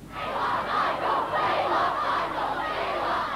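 A large crowd of Michael Jackson fans outside Madame Tussauds in London makes a loud surging roar of shouts and cheers, swelling and easing in waves, heard from a distance.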